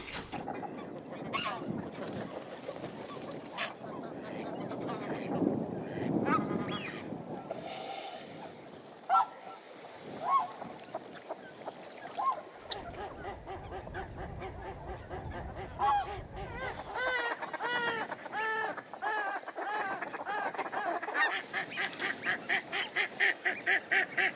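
A hen duck calls repeatedly at a hunting hide in the marshes, with harsh quacking and honking among other waterfowl under faint outdoor noise and a low hum.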